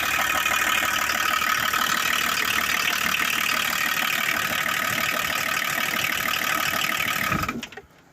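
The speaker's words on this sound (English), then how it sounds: "Runs sweet. There's a bit of a blow on the exhaust there, somewhere on the manifold possibly." A car engine idles steadily, close by, with a ticking, puffing blow from a leak on the exhaust manifold, running evenly for several seconds before cutting off abruptly.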